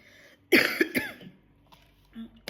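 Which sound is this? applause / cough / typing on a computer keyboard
cough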